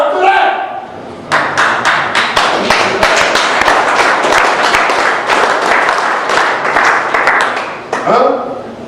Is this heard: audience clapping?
yes